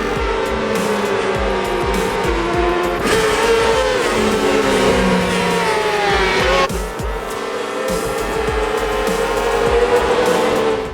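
Racing engines roar loud and continuous in the Ride 4 motorcycle game on PC, a steady high-revving drone with pitch shifts as gears change and tyres squeal briefly, with no talking.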